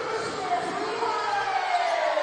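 A sold-out crowd fills the SGS College Arena for a basketball game, a steady, dense murmur of many voices with faint cheering, while a voice talks over the crowd noise.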